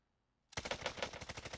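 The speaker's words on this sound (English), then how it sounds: "And then there's also suppressed shots going on over here." Suppressed gunfire in the shooter game Warzone, a quick rapid burst of muffled shots starting abruptly after a moment of near silence.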